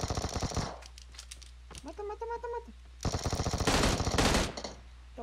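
Automatic gunfire rattles in the zombie mode of the video game PUBG Mobile. Loud rapid bursts open and close the clip, with a short break in the middle where a voice is heard.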